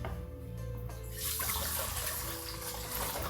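Spring water pours from a jug into a cooking pan, a steady close splashing stream that swells after the first second and keeps running to the end, over a low background hum.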